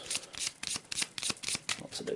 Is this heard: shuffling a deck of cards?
yes